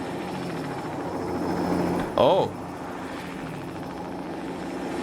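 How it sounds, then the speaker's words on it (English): Helicopter rotor drone from the Let's Build a Zoo video game, a steady whirring hum that swells and sweeps with heavy panning, with a brief exclaimed voice cutting in midway. "whenever the helicopter moves"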